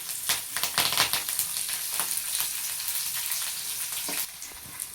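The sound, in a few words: frying chopped green chillies in oil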